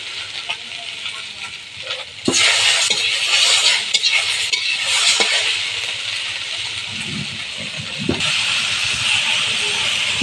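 Spices, fried dried chillies and salt are sautéed in a pan, giving a loud continuous sizzle. Scraping stirs and a few metallic clinks come through up close, the frying growing louder after the first couple of seconds.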